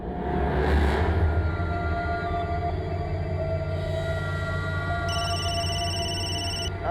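A telephone rings with a repeated electronic trill over a steady background of engine hum and a car revving, fairly loud and close, with no one speaking.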